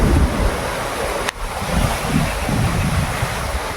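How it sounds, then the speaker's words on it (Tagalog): Strong wind buffeting the microphone, a constant loud rushing roar with low rumbling gusts and a brief dropout partway through. "Lakas ng hangin dito."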